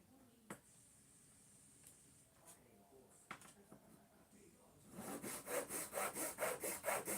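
Hand sawing through wood while building a model of HMS Victory: a few scattered taps and scrapes, then a steady run of rhythmic back-and-forth saw strokes, close and fairly quiet.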